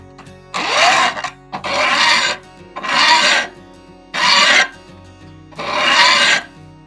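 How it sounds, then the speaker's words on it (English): A small triangular file rasps across the tops of handsaw teeth in five long, close strokes, evenly spaced with short pauses between them, and no talking. "You're going to need a small triangular file. And the first thing I'm going to do is I'm going to go across the top of each of these."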